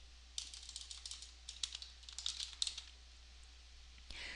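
Fingers type on a computer keyboard, a quick patter of close, crisp key clicks in short bursts, then a pause and a final soft rustle.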